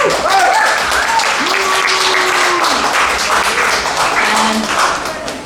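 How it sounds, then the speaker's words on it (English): An audience at a live literature night in a café breaks into applause for a headliner, a dense, sustained round of clapping with a few taps and tonal voice-like sounds threaded through it. "please, a loud round of applause for him first"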